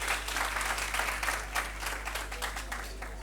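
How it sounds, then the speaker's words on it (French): Lively audience applause at a high school quiz show, a dense, continuous burst of clapping from a crowd, close and even throughout the few seconds. "Applaudissez très très fort"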